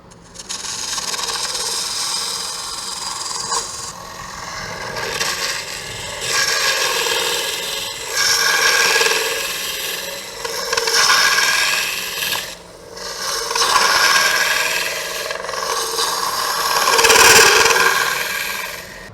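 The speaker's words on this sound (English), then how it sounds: "As much as I do like the way that ring tool cuts, that chattering drives me crazy." A ring tool cuts wood spinning on a lathe while a lidded box is turned, giving a steady, raspy scraping with a chattering edge that swells and fades in several long passes, close and loud.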